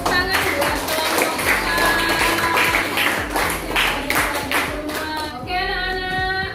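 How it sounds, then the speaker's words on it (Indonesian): Schoolchildren in a classroom clap for a group after its presentation, the scattered clapping mixed with background chatter and a teacher's voice. "tepuk tangan buat kelompok"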